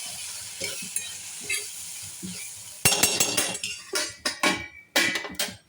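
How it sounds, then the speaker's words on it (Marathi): Okra bhaji cooks in a pan, a soft sizzle at first, then louder bursts of frying hiss with clinking pot and lid knocks in an irregular rhythm. "आपली जी भाजी आहे, भेंड्याची भाजी, ती या ठिकाणी शिजत आहे"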